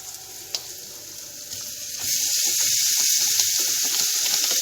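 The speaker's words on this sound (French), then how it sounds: "on viendra rajouter nos lardons" Lardons dropped into a hot pan start a loud, close sizzle partway through, rising into steady, crackling frying that continues to the end.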